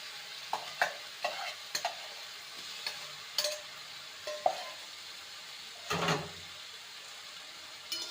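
Fried potatoes stirred into jute leaves in a pan: a series of short scraping strokes at an irregular pace over a soft sizzle, with one longer, heavier scrape near the end.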